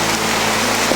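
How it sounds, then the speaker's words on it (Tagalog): Heavy rain falls steadily and loudly in a dense, unbroken wash with no gaps, close by and with no voices over it. "Kaya sobrang ulan tol."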